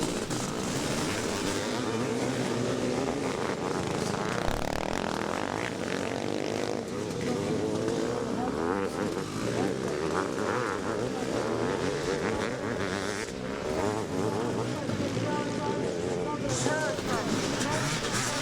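Evolution 500 two-stroke motocross bikes race up a hill at a veterans' motocross event at Farleigh Castle, engines wailing steadily and loudly throughout while a commentator talks over them.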